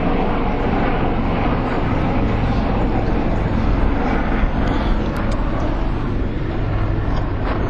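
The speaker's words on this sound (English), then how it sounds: "I believe that helicopter's called like a Hellcat or something." A military helicopter passes overhead, a steady broad rotor and engine roar holding close and loud throughout without fading, with no talk over it.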